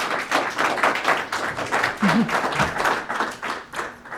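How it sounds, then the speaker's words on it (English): A crowd at a candidates night claps steadily throughout, a dense patter of applause from many hands at moderate loudness. "Round of applause for our candidates"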